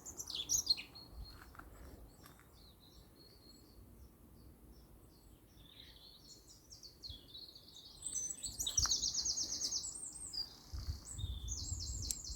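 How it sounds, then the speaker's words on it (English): Many blackbirds singing outdoors in a graveyard near a yew tree, with bright warbling phrases and chirps coming from several birds, some near and some farther off, and no talk heard. "There certainly are a lot of blackbirds."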